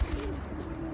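A pigeon coos, a soft low throaty warble close by over a hissy outdoor background.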